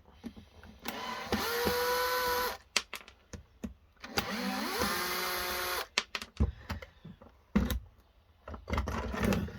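A screwdriver, apparently powered, whirs in several sustained bursts while backing screws out of the side panel of a laser printer being scrapped, with rising and falling motor pitch and small clicks and clatter between bursts.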